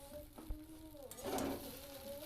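An egg fries in a pan for a tiffin snack while being pressed down, soft sizzling and stirring noise rising midway and continuing faintly to the end, with a low hum underneath and no talk.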